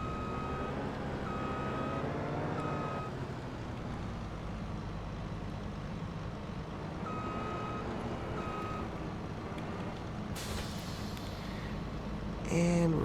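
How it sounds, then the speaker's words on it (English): A forage harvester engine idles in Farming Simulator 25 as a steady, low, droning rumble, with intermittent reversing-style beeps and a brief hissing burst near the end. "we're going to go ahead and jump into the harvester, the forage harvester itself. Start it up."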